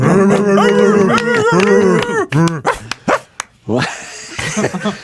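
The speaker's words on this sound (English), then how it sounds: "Bobo Boys, give a round of barks to Jeff Cesario" A group of dogs barking and yipping in quick, loud bursts, close by and overlapping, with some whimpers and a louder burst of noisy barking toward the end.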